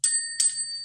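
A hand bell is rung twice in quick succession, each strike leaving a bright, sustained metallic ring that decays slowly; close and fairly clear, with no voices.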